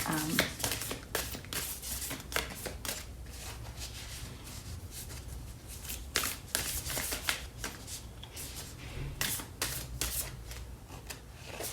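Tarot cards being shuffled close up, a continuous run of crisp riffling and flapping bursts with short pauses, lasting throughout at moderate loudness.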